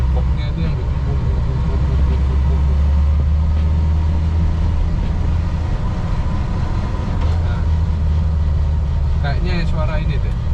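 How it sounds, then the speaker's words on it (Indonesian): A steady low booming drone from the gearbox fills the cabin of a Toyota Land Cruiser at high speed, a deep hum under continuous engine and road noise with no break. "ada kayak suara dari gearboxnya itu yang bikin bum"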